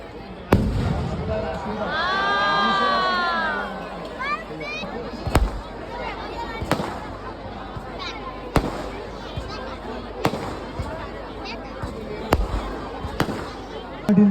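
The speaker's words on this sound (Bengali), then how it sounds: "আতশবাজি অসাধারণ কিছু," Fireworks display at a Champahati fireworks show: rising whistles early on, then sharp bangs at roughly regular intervals over a steady crowd murmur, fairly distant and moderately loud.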